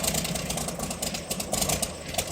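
An Allison engine on a Curtiss P-40E Warhawk catches and settles into a rough idle, its sputtering pulses loud and uneven throughout, with no one speaking.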